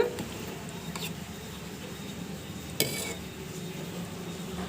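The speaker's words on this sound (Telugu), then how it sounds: "మంచి గోల్డెన్ కలర్ వచ్చే వరకు ఈ గోధుమ పిండిని బాగా వేయించుకోండి" Wheat flour toasts in a pan while a metal spoon stirs it, producing soft, continuous scraping with a few sharp clinks of utensil against pan, one louder knock near the end.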